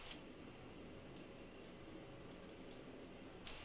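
A steady wash of running shower water in Mass Effect 3 Legendary Edition, a soft constant patter that holds throughout at low level, with a brief brighter splash near the end and no speech.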